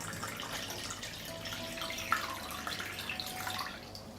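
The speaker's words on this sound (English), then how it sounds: "I pour water into the pot up to the height of the lid." Water poured into a pot holding glass jars of tomatoes, peppers and pickles set on a cloth, filling toward the lids; a steady broadband splashing rush runs throughout at moderate loudness with a brief louder splash midway.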